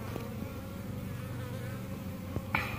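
Honey bees buzz steadily and close during removal of a hive from inside a water meter box, a continuous insect drone with a few faint knocks, no voices.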